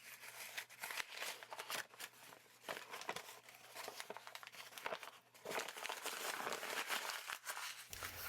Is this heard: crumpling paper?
yes